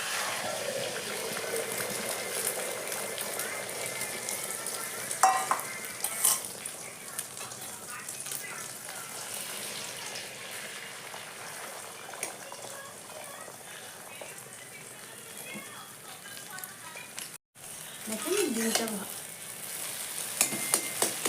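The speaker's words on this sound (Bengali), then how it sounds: "ডিমটা খুব ভালো করে ফেটে নিয়েছি এখন ডিমটা আমি ভাজি নেব" Beaten egg frying in a pan in a home kitchen, a steady soft sizzle running throughout with occasional stirring scrapes and a brief voice near the end.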